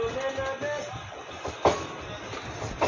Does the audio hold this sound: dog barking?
no